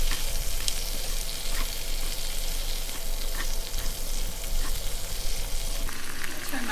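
Baby bok choy sautés in a hot pan alongside seared filet mignon juices and soy sauce, making a steady, dense sizzle up close with occasional small crackles and faint stirring.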